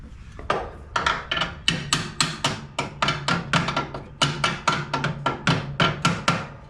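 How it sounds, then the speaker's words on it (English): Part of a bent mower deck on a TroyBilt Bronco riding mower is tapped back into place with a hammer, about twenty sharp metallic knocks in a steady, slightly uneven rhythm, close and alone. "Tap that back in place."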